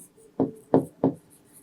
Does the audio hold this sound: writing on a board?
yes